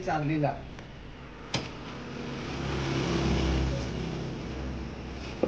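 A car engine hums as a low, steady rumble from inside the moving vehicle, swelling slightly midway, with a short voice at the start.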